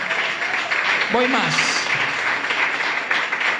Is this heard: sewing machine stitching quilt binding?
no